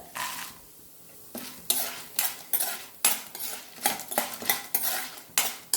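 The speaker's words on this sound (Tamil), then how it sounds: "இது ரெண்டும் வந்து பருப்பெல்லாம் நல்லா கலர் வந்து மாறுற அளவுக்கு நல்லா வறுத்துக்கலாம்." Chana dal and peanuts with skins roasting in a pan, stirred with repeated sharp metal scrapes and clinks of a spoon against the pan in an uneven rhythm, close and fairly loud, with a short quiet pause near the start.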